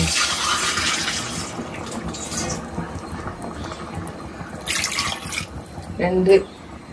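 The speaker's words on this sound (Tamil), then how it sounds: "நான் ஒரு 2 டம்ளர் தண்ணி ஊற்றிக்கிறேன்" Water sloshes and pours into a cooking pot for mutton biryani with a bubbling, splashing wash, ending in a brief louder splash; a voice talks faintly underneath.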